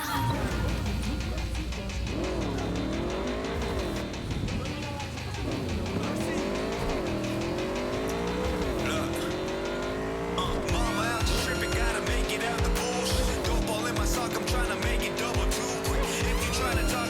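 A car in the Cyberpunk 2077 video game revs through repeated rising and falling engine pitches with sharp tire squeals and skids, loud and continuous for the whole stretch.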